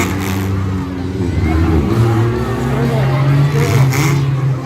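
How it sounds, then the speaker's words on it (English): A 2009 Dodge Caliber racing on a track, its engine revving loud and close with rising and falling pitch, and a voice talking over it. "The motor don't sound too good now."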